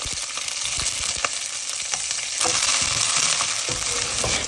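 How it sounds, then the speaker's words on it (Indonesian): Garlic, shallots, candlenuts, bird's eye and red chilies with turmeric frying in hot oil, giving a close, steady sizzle with scattered crackles and pops and occasional stirring scrapes. "Panaskan minyak, lalu goreng bahan bumbunya."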